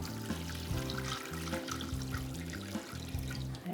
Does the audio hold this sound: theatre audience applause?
no